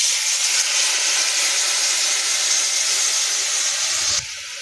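Mustard paste water poured into a hot pan of frying fish with black cumin and green chillies, giving a loud, steady sizzling hiss that runs unbroken for about four seconds and then drops off sharply.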